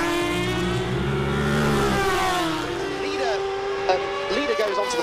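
Racing motorcycles, Triumph and Kawasaki machines, scream past at Cadwell Park circuit, a steady high-revving engine drone with shifting pitch as the bikes go by, under a race commentator's voice.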